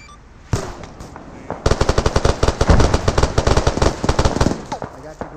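Sustained automatic machine gun fire in the military shooter game ArmA 3, with rapid loud bursts of shots after an opening single report, close and dominant throughout.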